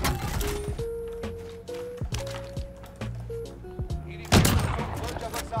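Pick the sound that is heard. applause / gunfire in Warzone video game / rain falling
gunfire in Warzone video game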